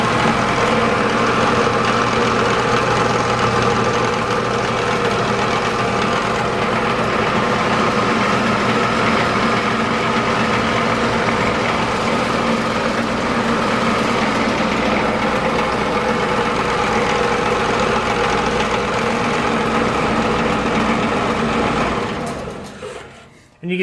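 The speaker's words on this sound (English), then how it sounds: "I figured I'd kind of turn the machine on for you so you can see the action that it has." A metal former power hammer runs continuously, its top hammer pounding up and down rapidly with a loud, steady mechanical drone and vibration that cuts off near the end.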